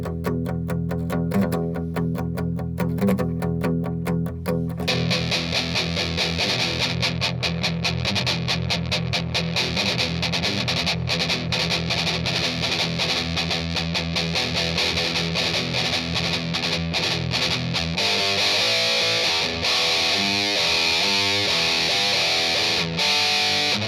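Electric guitar run through a Boss Metal Zone distortion pedal with its controls set at noon, giving a thick, saturated, sustained tone that plays loud and continuously, shifting into choppier phrasing near the end.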